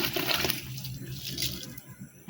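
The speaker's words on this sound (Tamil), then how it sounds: "இந்த இந்த பாருங்கள் அரிசி போட போகிறோம்." Rice pours into a pot of cooking mushroom biryani with a close, rushing, watery swish that slowly tapers off, and no one talks.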